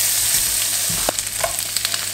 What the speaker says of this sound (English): So I'm going to pick out a couple pieces of the bacon and just move some stuff around.